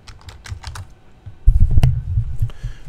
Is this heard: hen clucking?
no